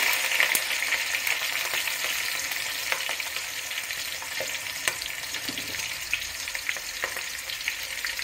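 Fish pieces for Nellore fish curry fry in hot oil with a loud, continuous sizzle and occasional crackles and pops, with no talk.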